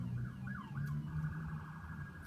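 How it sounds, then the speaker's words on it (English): A wailing siren sweeps up and down, then holds a steadier tone, moderately distant under a low traffic rumble. "as the siren passes in the background"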